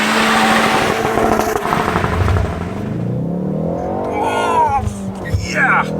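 A Ford Focus ST launches from launch control, its engine holding high revs and then accelerating hard in first gear with a rising pitch sweep and a brief chirp, loud and close, with a voice at the start.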